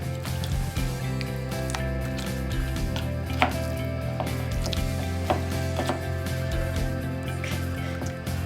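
Corn flour and water are stirred into thick oobleck in a bowl, giving a continuous wet scraping and squelching with repeated clicking knocks, close and fairly quiet, with no voices.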